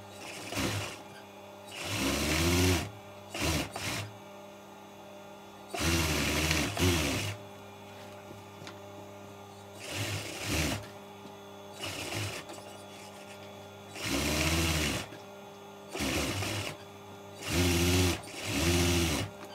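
A sewing machine stitching chaddi shorts runs in repeated short bursts of rapid mechanical whirring, stopping and starting about eight times, close and alone.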